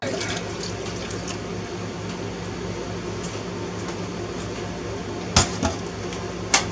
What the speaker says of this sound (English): Then we're going to add 3½ cups of vinegar,